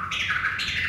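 A quick turntable chirp scratch, a short bird-like squeak from a DJ's record, sounds twice in a rapid close burst.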